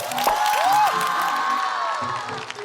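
A studio audience at a Chinese debate show cheers and claps continuously, with whoops and shouts rising over the steady applause.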